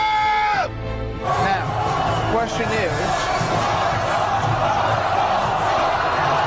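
A stadium crowd roars and cheers for a politician, loud and continuous throughout, with a voice talking over the din.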